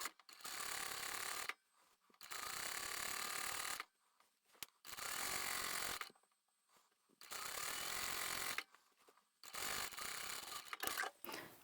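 A sewing machine stitches a blouse hem in bursts of rapid, even whirring, four long runs separated by short pauses and a final choppier burst, close and fairly quiet.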